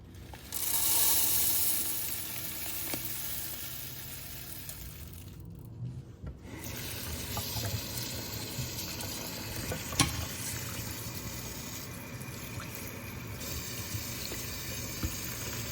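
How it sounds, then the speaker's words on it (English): Onions frying in a pan for red cabbage lentil soup: a close, continuous sizzle with occasional stirring scrapes and a brief dip in the noise partway through, no talking. "Fry your onions"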